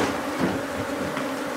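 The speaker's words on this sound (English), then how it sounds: "We have a lot of guard bees here." Africanized killer bees swarm around a counter being removed, an angry steady buzzing drone that fills the space, close and continuous with faint scratchy knocks underneath.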